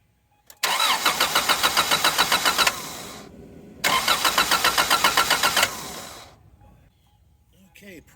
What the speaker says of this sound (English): I'm gonna see if all the accessories work and then see if it'll turn over.